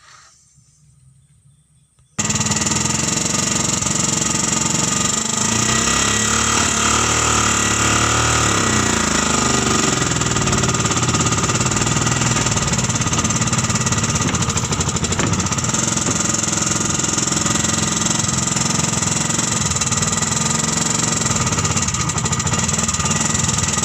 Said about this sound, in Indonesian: kita sekarang coba lagi untuk memarkirkan mobil ini ke tempat semula